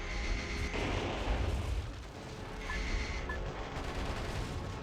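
Heavy cannon fire and explosions in the mech action game Metal Wolf Chaos, a dense roaring barrage of booms that dips briefly and then resumes, loud and continuous with no voices.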